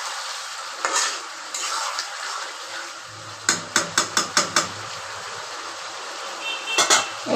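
Chicken braised and stir-fried in a pot, a steady sizzle under a run of quick metal spatula scrapes and knocks against the pot, then a couple more stirs near the end, no speech.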